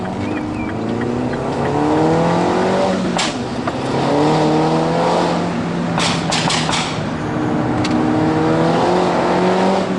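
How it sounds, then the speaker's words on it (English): A 270 bhp Mini JCW Roadster revs hard and climbs through the gears on a hill climb, loud and close, with rising engine tones and brief bursts of tyre noise as the front wheels lose grip. "You just hear the front end struggling for grip."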